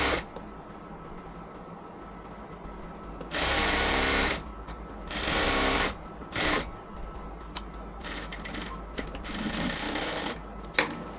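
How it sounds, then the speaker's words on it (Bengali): Sewing machine stitching a thin black piping seam along the border of a luxury cotton kameez, with several loud bursts of running stitches separated by quieter pauses and handling noise. "আমরা সেলাই করে নিব এখন।"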